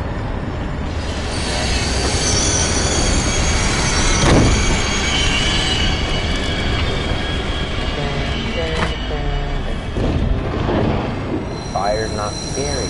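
Train ride in a dark horror video game, a steady rumbling carriage with squealing wheels and metallic rattles running throughout, with a voice talking over it in places.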